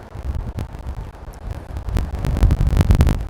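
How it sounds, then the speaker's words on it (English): Gusty outdoor wind in Amarillo buffets the microphone with low rumbling bursts that grow stronger and more frequent toward the end. "It's a windy day here in Amarillo."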